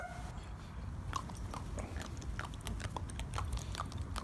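A puppy crunches and gnaws on an ice cube, giving a close, irregular series of crisp bites and chewing clicks over a steady low background hum, with no talking.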